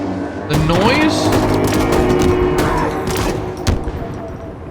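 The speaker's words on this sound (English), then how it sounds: "Wait, am I seeing gunfire?" Rapid bursts of gunfire crackle in the video game Halo Infinite, over game-style sound effects and a sliding tone, with a louder bang near the end.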